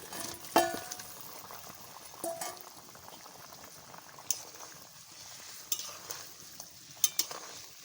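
A chicken and potato curry bubbles at a steady low boil, with soft liquid blips and a few sharper clinks of stirring spaced through the simmer; no one speaks.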